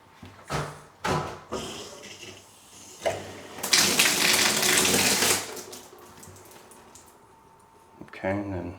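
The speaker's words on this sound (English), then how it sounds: "So let's turn on this water." Water rushes from a newly installed two-handle shower valve with a built-in diverter, starting with short bursts of spray and handle clunks, then a loud sustained gush for about two seconds before tapering off, with a voice speaking near the end.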